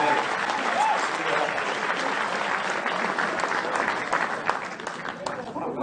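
A crowd at a political rally applauds loudly and steadily, a dense wash of clapping and cheering that holds for several seconds while a voice speaks over it.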